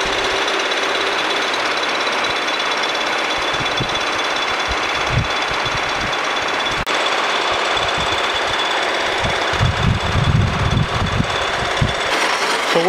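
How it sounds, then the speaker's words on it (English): Vertical milling machine cutting a 45 degree angle on a King-Way camelback straight-edge rough casting: a continuous loud grinding, chattering hum throughout, with heavier rough pulses of cutting toward the end, no voices. "I've gone over now to the vertical mill to do this instead of the horizontal."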